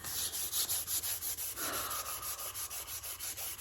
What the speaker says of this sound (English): Sand, wait to dry. Sand, wait to dry. Sanding, wait to dry.